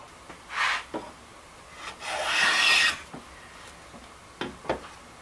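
Stanley 4 Square 1105 hand plane taking a shaving off wood, a few short rasping strokes with one longer, louder pass in the middle, close and alone with no talk.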